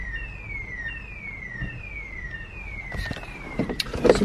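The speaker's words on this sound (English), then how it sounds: "Some sort of random alarm going off. Loud alarm." A loud alarm wails outside a Tesco supermarket in repeated descending sweeps, fairly distant, over street noise, followed by some clattering and rustling near the end.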